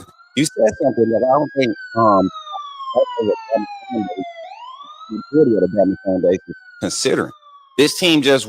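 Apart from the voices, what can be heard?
siren sound effect played on podcast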